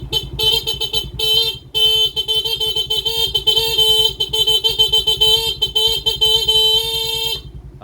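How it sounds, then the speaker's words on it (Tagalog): Horn on a Suzuki Smash 115 motorcycle blares in a series of honks, long sustained blasts broken by brief gaps, loud and close with a running engine underneath. "Busina tayo."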